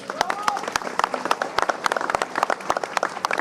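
Audience applause at a political speech, with dense, steady clapping from a crowd filling the whole stretch and sharp individual claps standing out close by.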